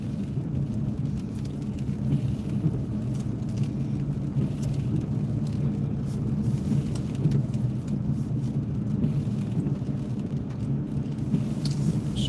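Rain drumming steadily on a parked car's roof and windows in downtown Estes Park, Colorado, a dense continuous patter with low rumbling undertones and no voices.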